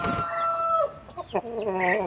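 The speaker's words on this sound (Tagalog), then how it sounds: "so apat itong tandang natin na ito" Roosters, including Rhode Island roosters, crowing, one long harmonic crow followed by overlapping calls from more birds, fairly close, with no talking.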